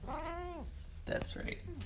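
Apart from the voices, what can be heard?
cat meowing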